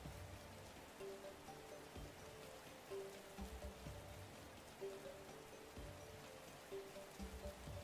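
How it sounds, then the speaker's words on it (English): Steady rain falls outside in a video game scene, a soft continuous patter with faint tonal game sounds layered underneath, quiet and even throughout with no voices. "It's raining her most hated blue rain outside."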